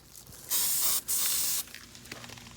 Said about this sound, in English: I'm going to try to spray some more.